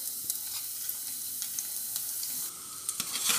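Battered cauliflower pieces fry in hot oil, a steady bright sizzle with small crackles and pops throughout, close and moderately loud, with no talking.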